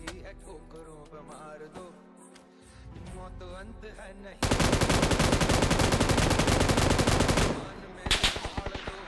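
Automatic gunfire hitting an enemy vehicle in PUBG New State: a loud, rapid burst of shots lasting about three seconds, followed by a few scattered single shots, with game sounds and music beforehand.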